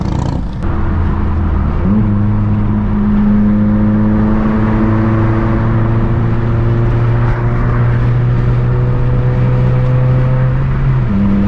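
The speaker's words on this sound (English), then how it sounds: "Let me know how you guys feel about the exhaust." A Mazda 3 engine revs and accelerates with a deep, droning exhaust note. The pitch rises steadily and holds loud and close for several seconds, with no talking.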